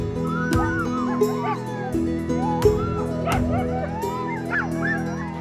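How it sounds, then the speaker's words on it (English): A pack of working husky sled dogs in Greenland at feeding time: many dogs yip, howl and whimper at once, close and loud. Sharp barks punctuate a steady chorus of rising and falling whines. "we were super excited to watch the sled dogs get fed"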